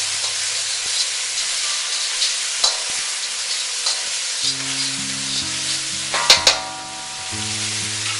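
Garlic, ginger, black bean and chilies frying in a hot pan for stir-fried rice noodles with beef, a steady close sizzle with scattered pops and a few clinks of a utensil.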